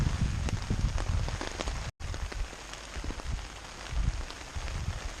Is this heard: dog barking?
no